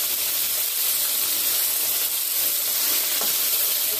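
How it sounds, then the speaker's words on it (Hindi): Pieces of fish, Delhi-style Gotti machi fry, sizzle in hot oil with a dense, steady hiss that stays loud and even throughout, close by with no voices. "कैसे मच्छी फ्राई हो रही है"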